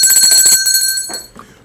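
A bell rings out brightly, its sharp metallic strike fading over about a second, loud and close with no talk.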